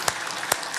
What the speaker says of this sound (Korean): 우리 하나님 감사합니다 하며 힘차게 한 박수 하십시다